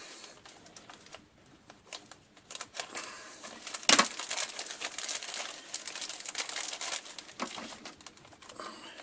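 Plastic bags of Revell Land Rover Series III model kit parts rustle and crinkle while being sorted, a close, irregular patter of small crackles and taps with one sharper rustle.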